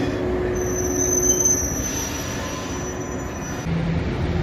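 A JR 113 series local electric train on the Hakubi Line arrives at Kitanagase Station in Okayama, a steady, loud rolling rumble with a high wheel squeal held over it, heard alone.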